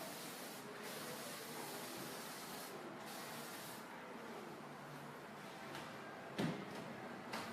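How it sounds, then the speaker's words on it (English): A spray bottle mists water onto a man's hair in a salon, a steady close hiss of fine spray with a few short pauses and a small clatter near the end. "I'm just going to mist the top"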